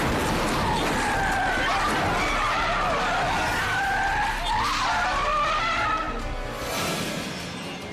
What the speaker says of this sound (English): Another car loses control on the slick asphalt and slams into the cruiser.